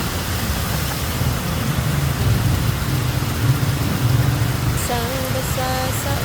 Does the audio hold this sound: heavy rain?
yes